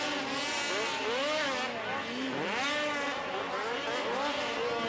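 Race cars roar past on an oval track during an auto race, engines rising and falling in pitch as they sweep by in a continuous loud stream, with commentary talk faint underneath.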